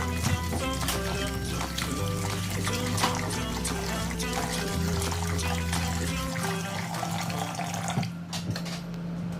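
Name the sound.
draining washed beef through a strainer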